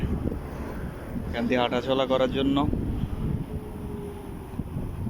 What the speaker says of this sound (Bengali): শীতল হাওয়া,